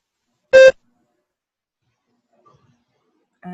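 A single loud electronic tone beeps once in a timed speaking test, standing alone against near silence before a voice begins at the very end.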